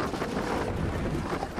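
Small fishing boat's outboard engine running on the Nile, a close, continuous low rumble mixed with wind buffeting and water noise, steady throughout.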